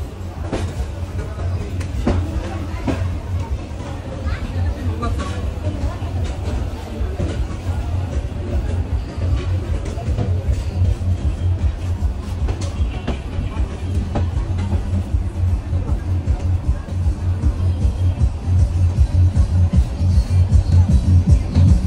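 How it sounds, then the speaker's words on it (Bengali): A Korotoa Express train stands at crowded Patgram station in Bangladesh, its low engine rumble running steadily under a loud, constant crowd babble as many passengers get on and off. "আমাদের ট্রেন এসে পৌঁছালো পাটগ্রাম স্টেশনে। পাটগ্রাম স্টেশন কিন্তু লোকে লোকারণ্য, প্রচুর পরিমাণে মানুষ উঠলো এবং নামলো।"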